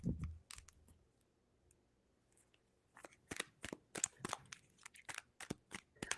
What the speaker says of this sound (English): I'm just going to type it.